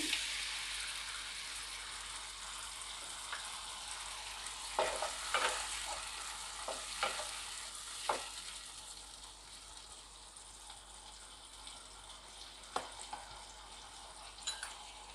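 Tamarind juice hitting a hot pan of girmit mixture, giving a soft, steady sizzle with scattered stirring clinks and scrapes, close and fairly quiet, with no talking.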